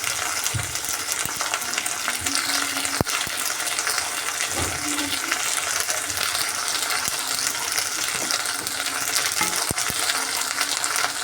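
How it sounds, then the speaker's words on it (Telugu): Half a spoon of ginger paste fries in a pan for a beans curry, a continuous bright sizzle with occasional stirring scrapes and a few sharp clinks, close and steady, with no speech. "ఇప్పుడు అల్లం పేస్ట్ 1/2 స్పూన్ వేసుకొని బాగా వేయించుకుందాము."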